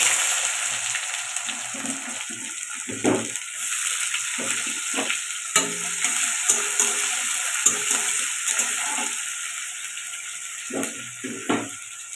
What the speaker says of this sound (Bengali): লঙ্কাটাও লাল হয়ে গেছে এবারে দিয়ে দেবো পেঁয়াজ